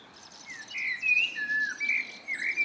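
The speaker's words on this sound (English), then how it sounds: "The birds are being very loud." Birds sing loudly in a muddy garden, a string of bright chirps and whistled phrases close by, alone with no voices.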